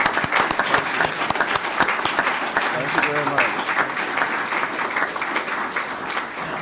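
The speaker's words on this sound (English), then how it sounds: "So one more time, applaud for everybody." Sustained audience applause honoring students at a school board of education meeting, dense steady clapping throughout with a voice briefly speaking over it partway through.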